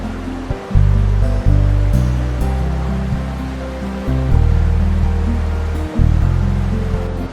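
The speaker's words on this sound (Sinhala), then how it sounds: "දිය ඇල్ල මීටර් 4ක් පමණ උස වුවත් පළලින් වැඩි තට්ටු දෙකක් විදිහට මේ ඇල්ල කඩා" The Hewainna waterfall, about four metres high and broad, drops in two tiers into a natural pool, giving a loud, steady roar of churning water heard up close with no other sounds.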